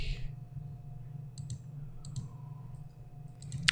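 A computer mouse clicks faintly several times while a product is being set up in the PrestaShop shop software, soft isolated taps over a low steady room hum, with no talking.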